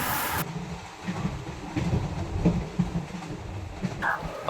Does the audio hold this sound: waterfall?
no